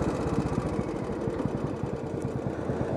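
A Royal Enfield motorcycle engine idles with a rapid, rattling valve clatter over a low, pulsing thump, close and continuous for a few seconds.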